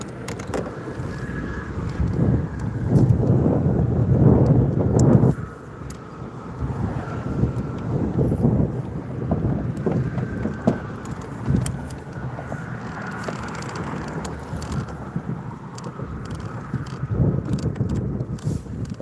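Wind gusting outdoors on open water during a fishing outing, a steady broadband rumble and roar with stronger buffeting in the first five seconds, fairly loud and continuous with no talk.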